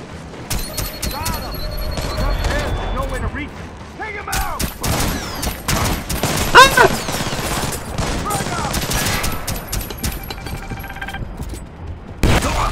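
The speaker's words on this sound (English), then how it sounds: "Oh, that was a grenade." Video game combat: continuous rattling gunfire and sharp shots with a grenade blast in the middle, loud and dense throughout, with someone talking and exclaiming over it.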